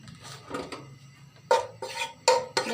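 Cardamom pods and cinnamon sticks being stirred in a metal pot, a few sharp clanks and scrapes of a spoon against the pot, close and distinct, over quiet sizzling.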